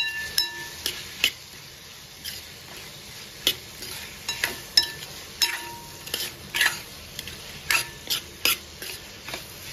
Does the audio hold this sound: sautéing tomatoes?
yes